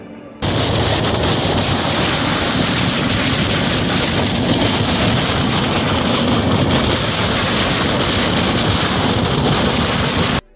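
A passenger train rumbles along on a journey through South India, a loud, steady, broadband roar with faint rhythmic rail clatter, continuous and close for about ten seconds, with no voices.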